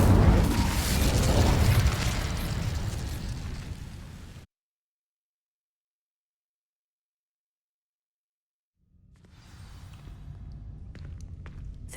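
Incendio fire spell cast in the video game Hogwarts Legacy, a loud fiery burst that roars and fades over about four seconds, followed by silence and then quieter game ambience and footsteps.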